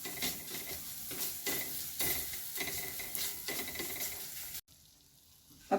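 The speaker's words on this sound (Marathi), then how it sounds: "आता आपल्याला हा मसाला चांगला मिक्स करून घ्यायचा आहे. 1 मिनिट व्यवस्थित परतून घ्यायचा." Spice masala sautés with garlic and onion for a fenugreek bhaji, giving a continuous close sizzle broken by rhythmic scraping stirs, then a brief hush before a final clatter.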